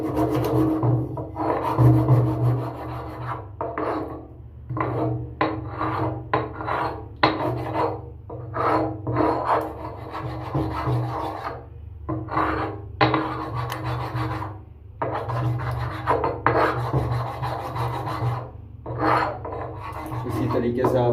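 Black peppercorns, five of them, are rubbed and ground on a stone in repeated rasping strokes, near and fairly loud, with short pauses between bursts and no talking.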